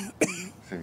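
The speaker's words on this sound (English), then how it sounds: "If we cough, it's only because we're smoking weed." A single short cough from someone smoking weed, a quick burst followed by a brief throaty trail, close and fairly quiet.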